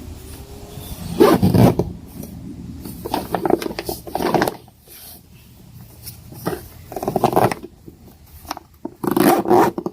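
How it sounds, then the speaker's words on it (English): A stiff zipper on long-stored car camping storage gear rasps open and shut close by in several quick bursts, with short pauses between pulls. "Zippers are a little janky too."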